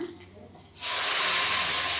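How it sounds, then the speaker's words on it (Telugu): After a quiet moment, a sudden loud sizzle erupts as spices and curry leaves hit hot oil for tempering, then a steady crackling hiss continues. "పోపు వేస్తున్నా"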